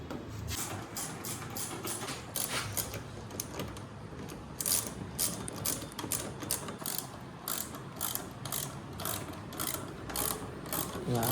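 Rapid ratchet clicking from a socket wrench undoing bolts on the fuel pump of a Yamaha R15 V4 motorcycle, steady bursts of sharp clicks continuing throughout at close range.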